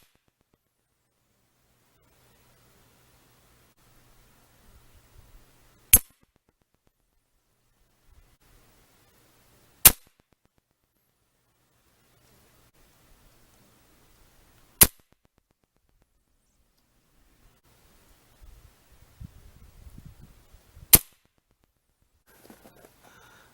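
Four sharp, isolated shots from a Crosman Shockwave .177 air rifle firing pointed pellets, a few seconds apart, each a loud crisp crack against near silence, with faint handling rustles between them.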